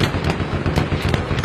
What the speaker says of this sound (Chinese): 大炮。